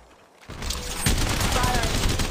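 Rapid gunfire from Apex Legends Mobile, a dense, loud burst of shots that kicks in after a quiet half second and keeps rattling steadily to the end.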